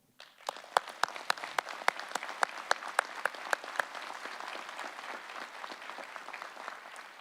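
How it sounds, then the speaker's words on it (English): An audience at a graduation ceremony applauds: a few sharp, separate claps quickly build into dense, steady clapping from a moderately sized crowd, heard from a middle distance. "So please join me in applauding the friends and family"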